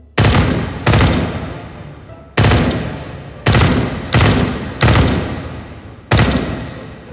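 Gunfire from zombie enemies in the VR shooter H3VR: seven loud, sharp shots or short bursts at uneven intervals, each with a decaying tail, close and with no talking.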